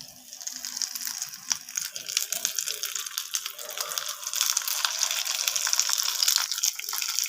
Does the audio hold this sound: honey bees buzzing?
no